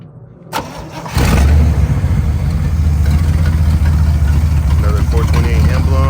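A 1967 Pontiac 2+2 with a 428 HO V8 and almost no exhaust cranks briefly, fires with a sharp jump in loudness and settles into a loud, steady, throbbing idle close by.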